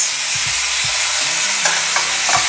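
Chicken frying in a pan for mustard chicken, crackling and popping loudly and close with sharp spits over a dense sizzle, plus occasional stirring scrapes, no voices.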